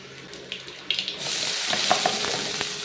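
Chopped onions and slit green chillies hit hot oil with panch phoron in a wok: a few soft clinks first, then a sudden loud sizzle that keeps crackling steadily up close.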